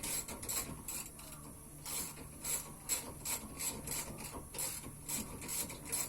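A ratchet backs out a roughly 13mm bolt on a brake caliper held in a vise, a quiet run of rapid clicking bursts repeating in short strokes at close range.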